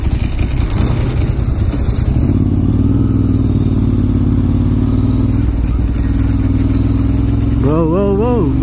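A Ducati Monster motorcycle rides through Manhattan traffic, its steady mid-pitched engine drone loud and close throughout, with a brief rise in pitch near the end as the engine revs.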